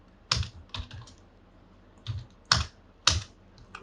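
A computer keyboard typed on in short bursts: a couple of clustered keystrokes, a pause, then three crisp, close taps, loud against a quiet background with no speech.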